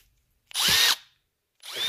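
A handheld power drill spins a small wind turbine: one loud, whining burst lasting about half a second that rises and falls, silence, then a second burst starting up at the end.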